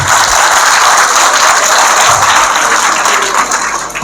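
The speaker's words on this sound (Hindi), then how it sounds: "बच्चियों के लिए तालियां भी हो जाए।" An audience at an SSC toppers' felicitation ceremony applauds the girls, a loud, dense and continuous round of clapping that tapers slightly at the end.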